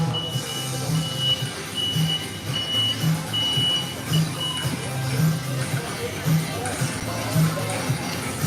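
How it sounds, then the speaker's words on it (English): A truck reversing near an amusement park in Pittsburgh, its backup alarm beeping at a steady pace of about one per second, moderately distant, under outdoor ambience with a person talking. "there goes somebody with the trucks there"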